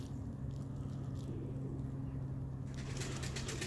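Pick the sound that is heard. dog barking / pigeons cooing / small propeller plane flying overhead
pigeons cooing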